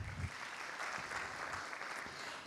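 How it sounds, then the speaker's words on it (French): An audience at a business conference in Casablanca applauds a panelist, a steady, dense wash of many hands clapping that stays fairly faint and heard from a distance in a large hall. "Sous vos applaudissements."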